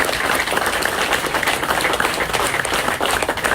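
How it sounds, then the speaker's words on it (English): Guests at an appreciation party break into loud, close, continuous applause, a dense wash of clapping hands that holds steady throughout. "Let's give her a round of applause."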